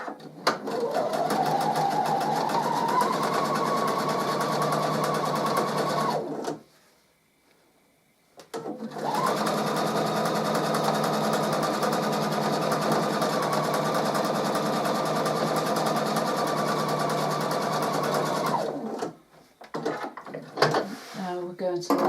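A sewing machine stitches a patchwork triangle onto a square, running steadily in two long bursts of rapid, even whirring separated by a short pause, fairly loud and close.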